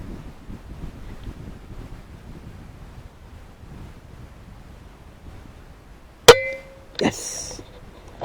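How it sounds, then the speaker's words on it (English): Wind gusts outdoors at night as a low, steady rumble buffeting the microphone, broken near the end by one sharp metallic clang and a short follow-up knock. "Bit of wind now."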